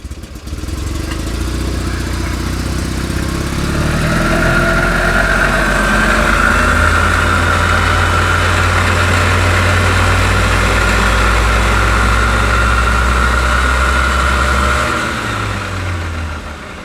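An Invacar engine idles steadily with a deep, continuous rumble and a faint higher whine from a drive belt, running unbroken for the whole stretch before easing slightly at the end.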